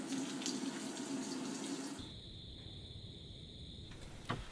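Water pouring into a washing machine on its first wash, fed by its own hot and cold supply in an off-grid container home, a steady close rushing fill that shifts partway into a higher, hissing flow.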